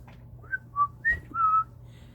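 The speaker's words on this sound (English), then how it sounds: "I don't know what that was all about, whistling." A person whistles a short tune of about four clear notes, the last one held longer, close and fairly loud over a quiet, low background hum.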